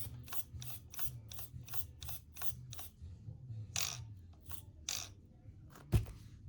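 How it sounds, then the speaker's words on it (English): Steering servo on a Redcat Ascent 18 RC crawler, heard as a string of short, sharp mechanical whirring bursts in quick regular succession, close and fairly quiet, ending with a single louder click. "this will be a test of the servo strength"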